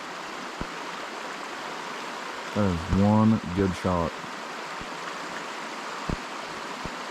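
A creek runs at night in a steady, hissing rush of flowing water heard outdoors, with someone speaking briefly over it midway and a few soft knocks.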